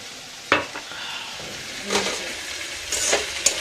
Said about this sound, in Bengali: একটু সর্ষে ফোড়ন দিয়েছি একটু হলুদ দিয়ে দিই